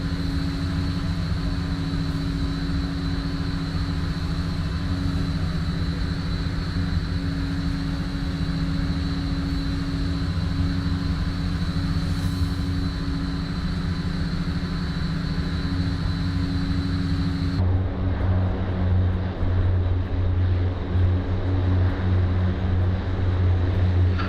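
Steady, droning propeller engine hum of a Fokker 27 turboprop cruising in Microsoft Flight Simulator, continuous and loud throughout, with the tone shifting and darkening near the end.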